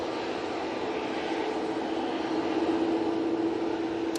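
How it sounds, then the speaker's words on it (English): A TUI Boeing 787 Dreamliner arriving at Manchester Airport, heard as a steady broadband jet roar with a faint whining tone rising slightly louder midway, continuous and fairly distant, with no voices. "this beautiful TUI Dreamliner is coming on"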